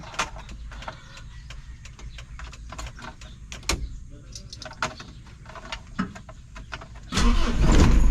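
A car engine that has sat unused for a week is cranked with repeated clicking starter pulses, then catches and roars up loudly near the end, with faint voices in the background.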